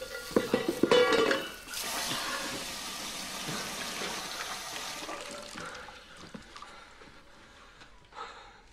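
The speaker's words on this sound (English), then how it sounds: "It's only a saucepan, my love." A saucepan clatters and clinks loudly at a kitchen sink with running water, then the noise gives way to a sustained wash of running water and quieter rattling.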